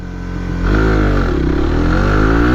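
A nearby motorcycle fitted with a quick throttle roars louder and climbs in pitch as it accelerates hard from first gear, a single sustained, loud rev with no talking.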